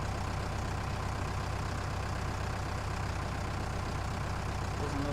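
Farming Simulator 19 tractor engine labouring under a plough, a steady low drone running continuously and loudly with no break and no talk.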